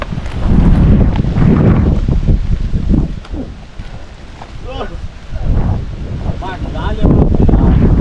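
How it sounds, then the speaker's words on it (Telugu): Strong gusts of wind buffet the microphone in loud, roaring bursts on a hilltop at night, with people talking briefly between the gusts. "గాలి ఎక్కువ తగులుతుంది"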